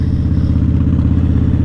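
Idling Ducati and Triumph motorcycles rumble steadily at close range, a continuous low, throbbing engine drone with faint clattering pulses and no voices over it.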